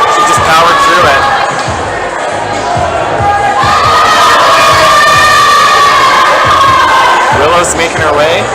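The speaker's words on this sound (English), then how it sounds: "The crowd's excited." Spectators cheer and shout throughout at a provincial top rope climbing finals, a loud, dense crowd roar with rising whoops and children's shrieks, steady for the whole stretch with a commentator's voice mixed in.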